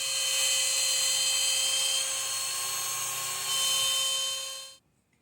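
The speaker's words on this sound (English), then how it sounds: "These radial arm saws have really been phased out in pretty much every situation, but it really works well doing fret slots." A radial arm saw cuts fret slots in a guitar neck, a loud steady high whine with strong tonal harmonics holding for several seconds, shifting slightly midway, then stopping abruptly.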